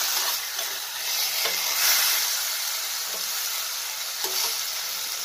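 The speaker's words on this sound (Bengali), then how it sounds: "নাড়াচাড়া করে দিচ্ছি একটু" A potato and ripe banana veg curry is stirred in a hot pan, giving a constant loud sizzling hiss with soft spoon scrapes recurring every second or so, close up and free of talk.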